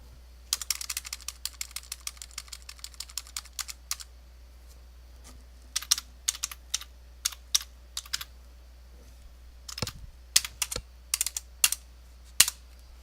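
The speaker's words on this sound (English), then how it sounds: "So let's go here and let's type." Typing on a computer keyboard in quiet surroundings, with bursts of rapid, close clicking keystrokes separated by short pauses and a few isolated sharper taps near the end.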